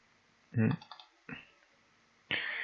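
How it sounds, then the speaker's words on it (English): A computer mouse clicked on a pixel while working in remote-sensing image software, heard as a few sharp close clicks separated by short pauses in a quiet room. "we choose a pixel in this and double click"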